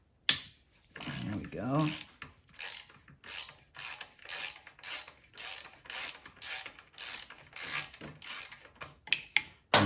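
Ratchet with an extension working a 12 mm bolt on a 2023 KTM 390 Adventure exhaust: repeated close, loud ratcheting strokes in a steady rhythm, each a burst of clicking pawl, with a brief spoken remark near the start.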